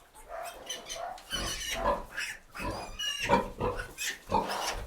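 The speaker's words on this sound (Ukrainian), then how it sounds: "Поросятка піщать" Piglets squeal and grunt repeatedly in a busy, overlapping chorus of high-pitched cries, close by and fairly loud.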